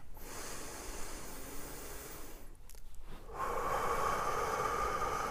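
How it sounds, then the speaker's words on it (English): One deep breath is drawn in slowly through a breathy hiss, then pauses briefly. It is let out in a stronger, steady airy exhale that lasts to the end. The breath is close and unaccompanied by speech. "We're going to take another deep breath."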